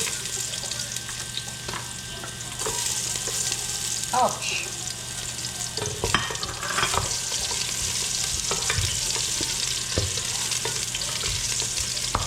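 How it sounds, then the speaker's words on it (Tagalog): Steady hissing sizzle of onion frying in a hot pot, with occasional stirring clatter and a brief exclamation partway through. "Pag nagpiprito ako, onion talaga yung unahin ko bago yung garlic."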